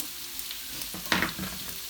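Thinly sliced veal goes into a pan of fried mushrooms and onions, and a steady sizzle rises to a sharp burst of crackling as the meat lands and is stirred.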